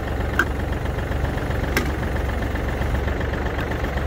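Yanmar FX265 26 hp tractor engine idling nearby, a loud, steady low rumble with a couple of brief clicks and no speech.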